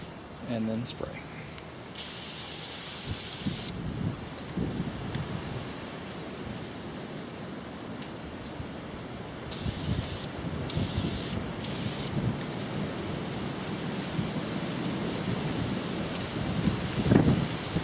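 Aerosol spray can priming wargaming miniatures outdoors on a windy day, with several hissing bursts of a few seconds each over steady gusting wind rumble.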